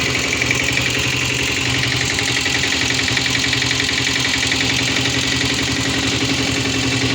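Royal Enfield Diesel Bullet motorcycle idling up close, a loud, steady diesel chug with rapid knocking pulses and heavy vibration, running alone throughout.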